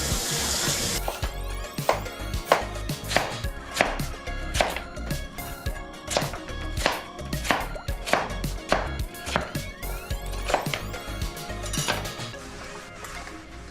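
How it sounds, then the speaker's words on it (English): A knife strikes a cutting board in quick, regular chops while radish is cut into bite-size cubes for kkakdugi kimchi, crisp close knocks repeating steadily with light clinks of dishes. "So what she's doing is she's just basically cutting it into a bite size."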